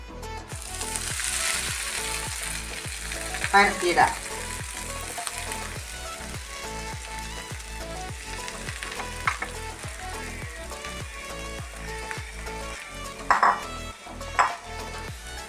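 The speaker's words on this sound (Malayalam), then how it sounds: "അതിൽ 2 സ്പൂൺ ബട്ടർ ഇട്ടിട്ടുണ്ട്. പിന്നെ ബ്രെഡ് ചെറിയ കഷ്ണങ്ങളാക്കിയിട്ട് നുറുക്കിയിട്ട് നമ്മൾ ഇതിലിടണം" Bread pieces frying in two spoons of butter in a pan for a breakfast dish: a steady sizzle with regular scraping stir strokes and a few sharper clatters, close and fairly loud, with a brief spoken word.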